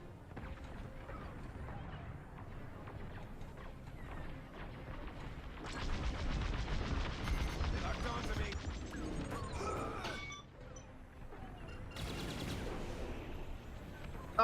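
Starfighter weapons and explosions during Star Wars Squadrons gameplay: loud, dense bursts of laser fire and booming impacts that swell halfway through, with brief electronic tones layered over the din.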